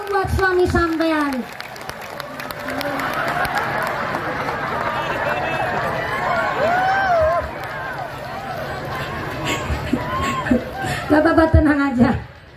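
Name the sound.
audience applause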